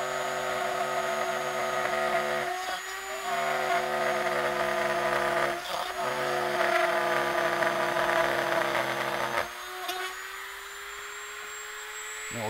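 A Dremel rotary tool cuts through a guitar pickguard with a steady high-pitched whine, running continuously and close, with brief dips in pitch and load as the bit moves along the cut.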